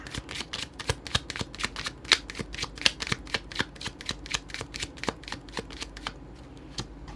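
A deck of tarot cards shuffled in a rapid, even run of crisp riffling snaps and slaps, close and fairly quiet, with no talking.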